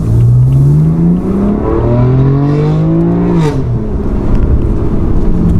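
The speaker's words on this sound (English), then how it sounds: "seeing as we have changed the exhaust system" A BMW M3 with a new exhaust system revs loudly, pitch climbing in repeated pulls, close and dominant with no talking.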